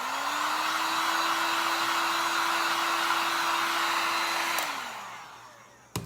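A hair dryer blows steadily at close range to dry fresh paint on a milk bottle, a loud constant whine and rush that winds down near the end, followed by a short click.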